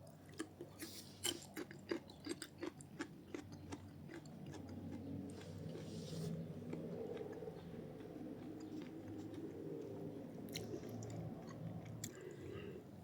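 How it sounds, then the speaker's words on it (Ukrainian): Close, quiet crunching bites and chewing of crisp fruit, irregular crackly snaps early on settling into steady moist munching. "Я навмисно похрумкочу на камеру, щоб було чути, як він хрумтить."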